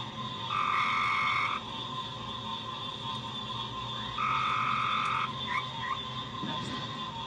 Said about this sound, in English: You'll hear a series of calls from a great tree frog